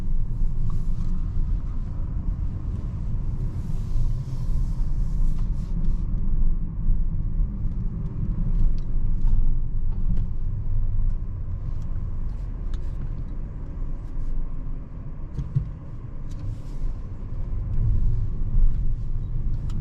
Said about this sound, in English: we are now departing this huge garage and going on a relaxed night drive